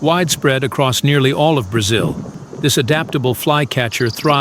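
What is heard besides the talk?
None of the usual background noises is heard.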